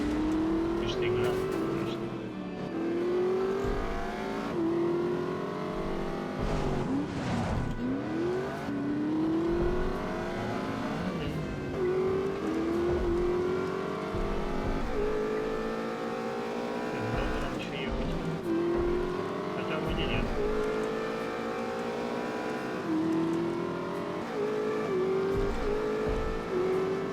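A car speeds along in The Saboteur video game, its engine whining steadily and rising through repeated gear changes, loud and continuous with someone talking over it.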